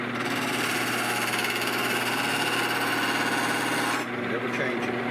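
A shop-built grinder has a motor mounted at the back, belted forward to a pillow block, spinning a grinding wheel at a fixed bevel angle. It gives a steady, loud, continuous hum with a grinding rasp that drops off sharply near the end.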